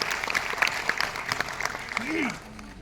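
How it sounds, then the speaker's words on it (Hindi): An audience claps to welcome a speaker on stage, a dense burst of applause at moderate loudness that is mixed with voices and a brief tonal squeal near the end as the clapping fades. "एक बार जोरदार ताली से सर का स्वागत करेंगे।"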